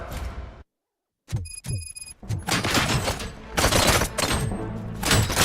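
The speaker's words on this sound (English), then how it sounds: "Gunshots? What's going on?" Gunfire in the RoboCop video game sounds as loud, dense bursts of shots and heavy thuds after a brief moment of silence, with a ringing alarm-like tone mixed in.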